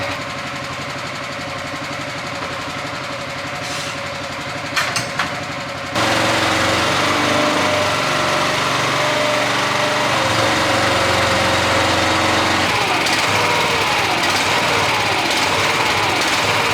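Large John Deere 9570 RT tractor engine running steadily, a loud continuous drone that grows louder and fuller partway through and holds without a break to the end, with no voices.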